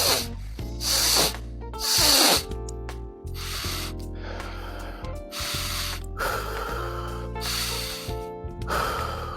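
Repeated loud nasal breaths taken through a nasal intake dilator, several sharp sniffing inhales alternating with softer exhales in an uneven rhythm, close to the microphone, with no talking.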